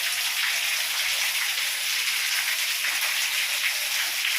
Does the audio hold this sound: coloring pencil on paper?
no